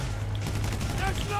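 Gunfire from the video game GTA 5 rattles in rapid bursts under a steady game background, while a voice talks over part of it.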